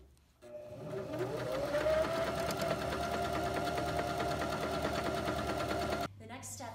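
A sewing machine hums steadily at close range as it zigzag stitches around the raw edge of a simple skirt, running continuously for several seconds before stopping abruptly.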